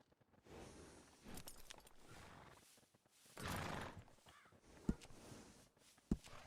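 A black male draft horse in Red Dead Redemption 2 gives quiet breathy neighs and snorts in two bursts, followed by a couple of sharp clicks, all faint and set against near silence.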